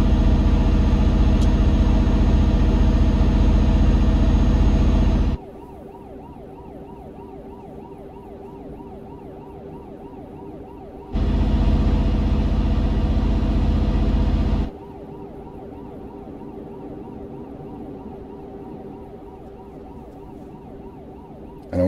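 Ambulance siren in Euro Truck Simulator 2, wailing loud and steady in two long stretches, with a quieter rumbling truck engine drone in the gaps between them.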